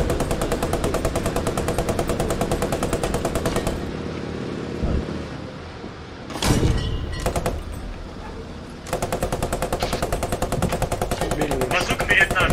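Bursts of automatic gunfire and heavy weapon fire in the WWII shooter Post Scriptum, loud sustained rattling before and after a quieter stretch with a sharp blast in the middle, with the low rumble of a tank in the background.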